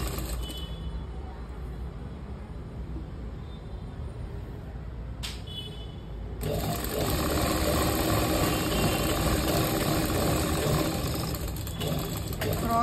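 A sewing machine stitching a full chudidar sleeve on cross-cut fabric runs in a steady mechanical hum that turns louder and busier partway through, with someone talking softly in the background.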